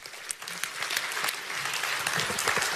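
An audience at a motivational seminar bursts into loud, sustained applause, a dense wash of many hands clapping that builds slightly and carries on without pause.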